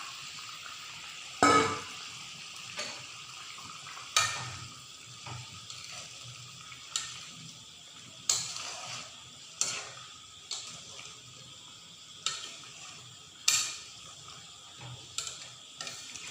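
Dried chandana fish goes into a boiling curry and is stirred, giving a string of faint, irregular clinks and scrapes of a spatula against the pot over a soft bubbling background, no voices.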